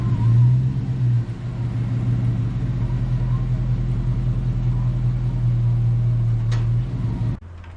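A pickup truck with a 3.5-inch lift idles and creeps along, towing a log splitter on a hitch with a 4-inch drop; a steady low engine rumble holds throughout, then cuts off sharply near the end.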